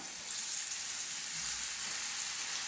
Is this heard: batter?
yes